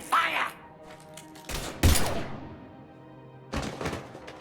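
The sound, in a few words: gunfire from the video game Mass Effect 3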